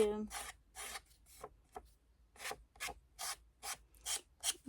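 A small hand file rasps along the edge of scrapbooking paper card in a quiet room, about a dozen short back-and-forth strokes in an uneven rhythm, close and clear with brief pauses between them.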